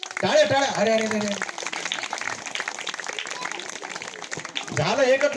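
An audience clapping at a gathering, a short burst of dense, steady applause between stretches of someone talking close by.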